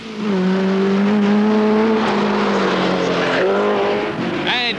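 A Vauxhall Chevette rally car at the 1979 Manx Rally roars past loudly, its engine note rising and falling through gear changes, close and dominant with a commentator's voice underneath.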